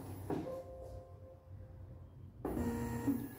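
A print-and-cut vinyl cutting machine scans a registration mark before cutting, giving a steady tonal mechanical whir that starts, drops away for a couple of seconds, then resumes loudly near the end.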